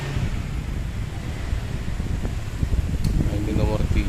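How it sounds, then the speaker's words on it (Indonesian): An electric fan runs at its second speed setting, a steady loud whooshing hum of moving air close by, with a few faint clicks and a voice briefly audible near the end. "ini kita tes hidup dulu apakah kipas angin normal atau tidak"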